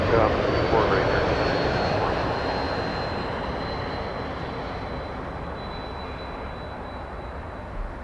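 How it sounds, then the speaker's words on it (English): An Air Canada Boeing 777 roars down the runway on takeoff at Toronto Pearson, a broad loud jet rumble that slowly fades as it climbs away, with faint talk beneath. "777 for Air Canada A54, clear for takeoff"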